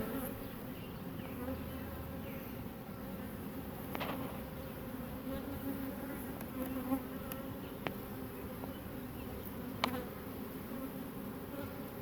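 Honey bees hum around an open beehive during an inspection, a steady close swarm drone with a few brief clicks and knocks from handling the frames, no talk.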